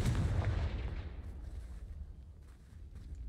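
A Confringo spell explosion in a video game starts as a heavy, loud blast that rolls off into a fading rumble, with faint crackles trailing behind it.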